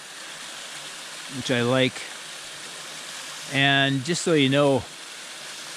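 Triple Falls, a waterfall on Vancouver Island, gives a steady broadband rush of falling water that runs throughout, with someone talking over it in two short bursts.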